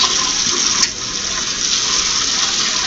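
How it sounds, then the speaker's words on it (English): Hands washed under a running kitchen tap, a loud, steady gush of water splashing close by for a few seconds. "Let me just wash this juice off my hands."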